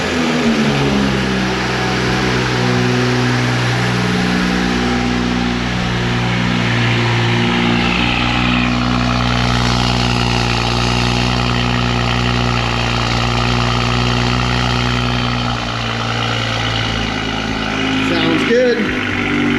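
A BMW G20 M340i inline-six fires up for its first start and settles into a steady, loud idle with a strong low drone and even rumble, a faint clatter near the end.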